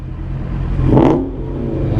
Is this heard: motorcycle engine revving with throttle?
yes